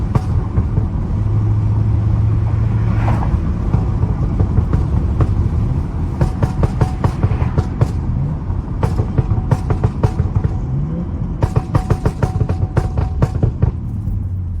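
Rear-wheel-drive BMW F30 335i accelerating, a loud, close engine rumble that holds throughout, with a short rising tone at the start and bursts of crackling pops.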